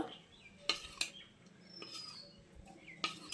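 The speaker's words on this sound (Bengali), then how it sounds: "আর ততক্ষণ আমি ব্যাটারটা একবার চামচ দিয়ে ফেটিয়ে নেব।" A spoon beating egg batter for egg paratha taps sharply against a bowl a few times, separated by soft stirring and scraping, close and fairly quiet, with no talking.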